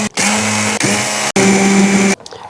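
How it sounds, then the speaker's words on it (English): A stick blender whirs loudly in short bursts as it pulverizes hot chunks of fat for tallow, the motor cutting out briefly between three pulses, with its pitch shifting slightly as the load changes. "I just very carefully use my stick blender and pulverize this"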